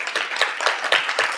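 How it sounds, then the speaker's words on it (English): A short burst of brisk clapping, many hands together, steady and fairly close. "Another round of applause for Alissa, please."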